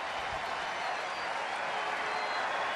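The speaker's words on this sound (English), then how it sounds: "Crowd getting behind Lewis here on the 3-2 2-out pitch" At a baseball stadium during a Baltimore at Texas game, a large crowd keeps up steady applause and cheering, a broad wash of clapping heard from a distance with a broadcaster talking over it.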